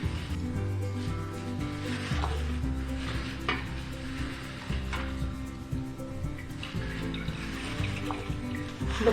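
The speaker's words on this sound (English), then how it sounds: "Squeeze out the water from the banana stem." Boiled banana stem is squeezed and handled in a kitchen bowl, giving soft wet squelches, drips and faint clinks in an uneven rhythm, close and moderate in level, with no speech.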